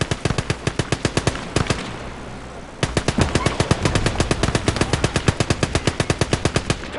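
Rapid machine-gun bursts in the Gates of Hell: Liberation war game, loud close rattling volleys with a brief pause before firing resumes in a long rhythmic stream.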